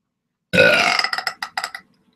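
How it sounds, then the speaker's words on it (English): A long, loud burp rolls out alone, then breaks into a series of shorter croaking pulses before fading out. "gotta burp real bad"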